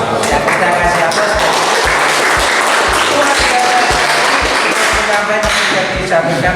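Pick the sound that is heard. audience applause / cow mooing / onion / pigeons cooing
audience applause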